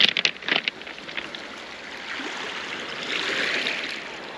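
Soft, gentle waves of a calm Black Sea at Lazarevskoye, Sochi, lap and wash steadily, with a few brief splashes at the start, calm and fairly quiet.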